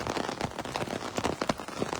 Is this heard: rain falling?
yes